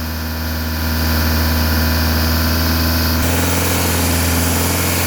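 A van engine held at raised revs around 3,000 rpm gives a loud, steady, close-up drone with a slight shift in tone partway through.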